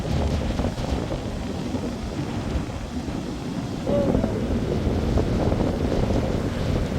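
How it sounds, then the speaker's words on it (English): Strong wind gusts buffet the microphone on a beach, a constant dense roar with surf rumbling beneath it, growing a little louder partway through. "It wouldn't be bad if the wind wasn't blowing so much"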